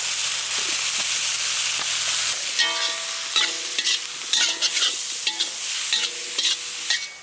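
Turmeric, salt, chili and coriander powder masala fries in a pan, starting as a soft hiss, then giving way to repeated clattering scrapes of a spoon stirring against the pan over a light sizzle.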